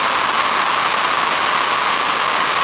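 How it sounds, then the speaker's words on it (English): Steady static noise from an Elektron Syntakt synthesizer, a constant hiss with a bright, broken, bit-reduced texture, sustained evenly and alone throughout. "it still sounds broken, but it's a static noise"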